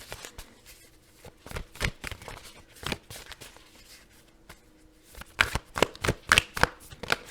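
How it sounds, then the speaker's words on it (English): Oracle cards shuffled close up during a card reading, a run of quick riffling flutters and soft slaps in irregular bursts, growing denser and louder near the end, with no talking. "I'm going to pull some oracle cards here and conclude the reading"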